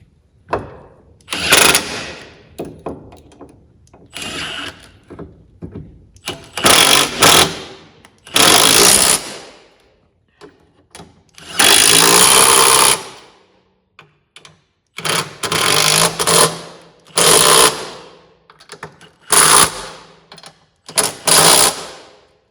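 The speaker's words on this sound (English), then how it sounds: "Now that the strut is back up in there, we can take our 13mm and cinch these down." Strut bolts on a Chevrolet Malibu front strut being driven tight with a 13mm socket, a series of loud, buzzing power-tool bursts of varying length separated by short pauses.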